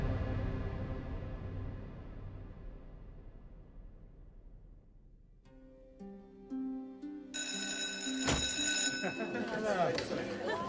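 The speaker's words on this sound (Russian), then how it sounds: "Звонок звенит не просто так." A phone rings in Marvel's Spider-Man 2 on PlayStation 5, its bright, insistent electronic trill cutting in loudly over the second half after a fading, sustained tone.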